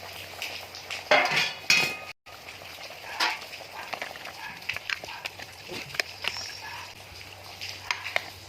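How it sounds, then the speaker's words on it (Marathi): A metal lid lifted off a pot of spicy village chicken curry simmering on a wood-fired stove, with a few sharp clanks and scrapes of metal and a soft bubbling in the background. "भाजी चेक करून घेऊया झाकण काढून घेऊया"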